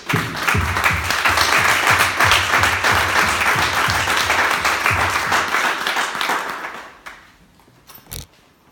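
A church congregation applauds and cheers in praise of God, a dense, loud wash of clapping that holds steady for about seven seconds, then falls away abruptly, leaving a couple of faint isolated claps near the end.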